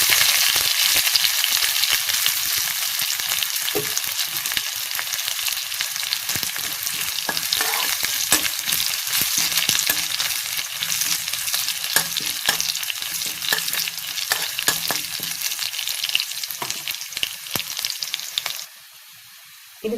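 Onion and curry leaves fry with popping mustard seeds in a hot pan for a Kerala-style snake gourd and dry prawn stir-fry, a loud continuous sizzle with crackles and occasional stirring scrapes.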